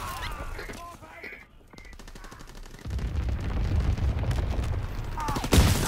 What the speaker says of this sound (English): Black guns firing, clearing the sky.